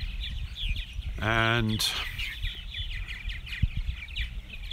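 Purple martins call in the evening at a colony in New York during peak season, with soft chirps and warbles scattered throughout. Partway through, a brief clucking, fowl-like call stands out, and a voice speaks a single short word.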